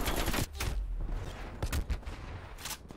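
Rapid video game gunfire crackles in dense close bursts, sharp shots and automatic fire layered over a steady noisy background for a few seconds.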